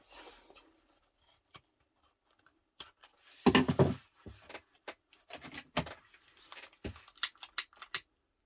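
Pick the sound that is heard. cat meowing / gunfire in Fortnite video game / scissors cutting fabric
scissors cutting fabric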